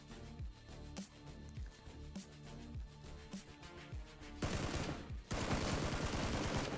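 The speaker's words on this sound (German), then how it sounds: "Da wird irgendwo geschossen." Rapid bursts of video game gunfire crackle through a busy in-game soundscape, with repeated sharp shots and a louder, denser stretch of firing near the end, and no voices over it.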